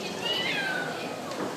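A stranded cat being rescued gives a few faint meows under steady background noise, with a high, wavering cry near the middle.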